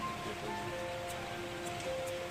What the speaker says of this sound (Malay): Kenapa kan hujan?